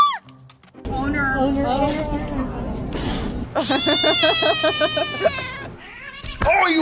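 An agitated cat spoiling for a fight with another cat, meowing and yowling up close in long, wavering, drawn-out cries that rise and fall, loud and insistent with short gaps between calls.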